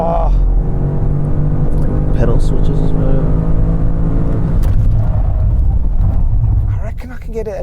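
BMW M5 launching hard, a loud close engine roar building and holding for several seconds before tailing off, with a person's voice over it near the end.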